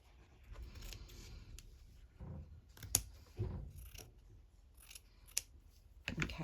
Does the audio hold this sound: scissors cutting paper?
yes